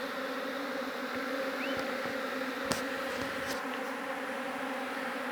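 Honeybees buzz steadily around a syrup feeder after honey harvesting, a dense close-up hum with individual insects zipping past now and then.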